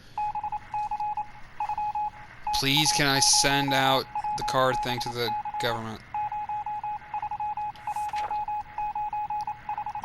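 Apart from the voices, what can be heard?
Morse code beeps over the radio in the video game 60 Seconds! Reatomized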